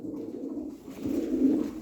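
A Hünkari pigeon coos with a low, steady, rolling call that swells toward the end, close by and with no voice over it.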